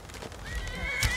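A horse in the video game Skyrim gives a short, loud whinny with a rising, wavering tone, accompanied by a few hoof clops in the background.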